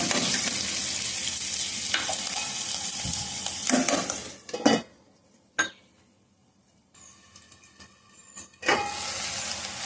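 Fish curry masala with coriander leaves, salt and turmeric frying in a pan, a loud sizzle with stirring clatter that drops almost to silence midway, then a faint hum and a brief return of sizzling at the end.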